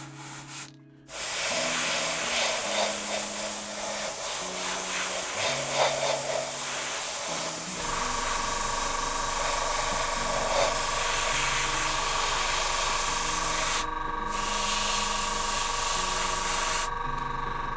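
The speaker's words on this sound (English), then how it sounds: "let's grab the airbrush." An airbrush sprays primer onto a miniature base in a steady, close hiss that runs almost without break, with a short pause near the start and faint dips later.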